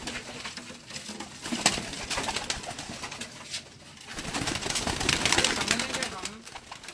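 Pigeons coo and rustle close by, with soft overlapping calls and occasional wing movement throughout, while people talk in the background.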